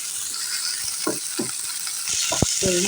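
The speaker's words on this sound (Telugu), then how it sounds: "అటు ఇటు తిప్పుకుంటూ చక్కగా వీటిని ఫ్రై చేసుకున్నాము" Onions, green chilies and sweet corn sizzle steadily in a pan, with a few scraping stirs of a spoon against the pan, heard close up without talk.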